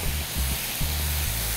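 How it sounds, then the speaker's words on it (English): Mushrooms sizzling in a hot pot on the stove, a steady broadband hiss close to the microphone with low rumbling thumps from stirring underneath. "Gotta hear that sizzle."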